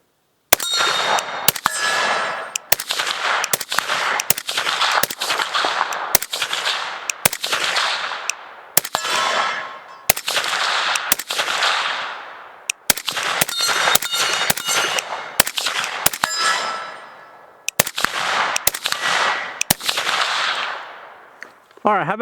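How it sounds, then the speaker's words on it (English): Rifle rounds from a suppressed AR-style rifle striking a steel target: a long, irregular series of sharp shots, each followed by a bright ringing clang, loud and close with no talk. "And it is hitting this steel pretty doggone hard."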